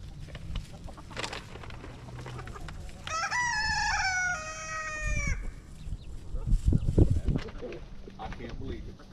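A rooster crows once, a loud, drawn-out call rising over a noisy background with scattered voices and rustling.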